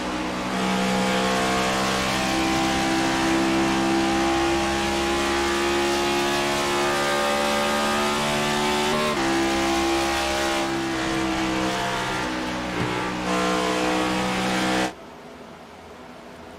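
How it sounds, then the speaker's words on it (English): A stock race car howls at high revs during a Lonestar Racing Cup Series oval race in Texas, the pitch dropping through several downshifts before the engine note cuts off abruptly near the end. "You heard him downshift."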